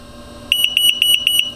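A rapid series of eight high electronic beeps, evenly spaced and sharp, sounding close over a quiet background.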